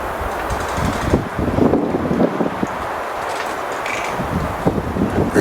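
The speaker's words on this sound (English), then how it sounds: "It's like a real crazy breeze just went by. Gusts." Gusty wind blowing through woods, a steady rushing roar with rougher buffeting bursts, close and fairly loud, with no talk.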